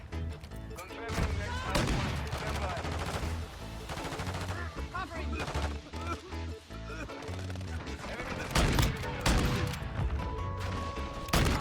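Sustained automatic gunfire from the mobile shooter Warzone Mobile on the Crash map rattles almost continuously in dense, loud bursts, with players' voices talking underneath.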